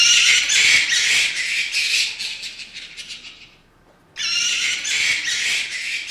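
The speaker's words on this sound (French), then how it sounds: "les cris poussés par un mammifère volant" Bat calls, the cries of a flying mammal: dense, rapid high-pitched squeaks and chirps, loud and close, stopping briefly in a near-silent gap before resuming just as intensely.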